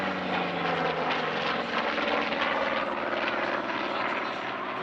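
An OV-10 light reconnaissance and ground-attack aircraft flies past at an air show, a steady, loud propeller engine drone that holds evenly throughout without letting up.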